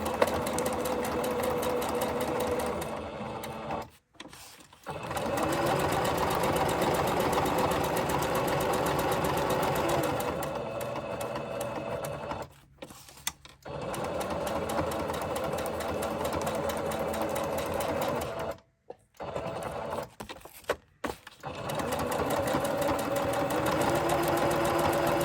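A sewing machine stitching handkerchief corner pockets, a loud, close mechanical whirr that runs in long continuous bursts separated by brief stops.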